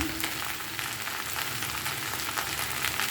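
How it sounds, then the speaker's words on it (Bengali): Okra cut into pieces frying in a pan with a little salt, a steady close sizzle of hot oil running evenly throughout without talk. "এখন আমি ভেন্ডিগুলোকে এভাবে কেটে নিয়েছি এগুলো ভেজে নিব"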